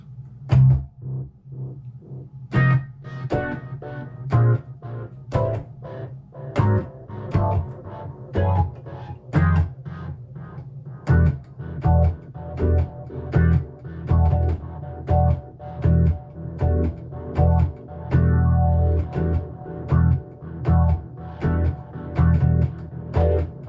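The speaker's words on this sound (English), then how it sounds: "that might be a good combination of like kind of a distorted, phased, delay, reverb." An electric guitar with heavy distortion, swirling phaser and echoing delay washes, played in rhythmic strummed chords that ring out with reverb.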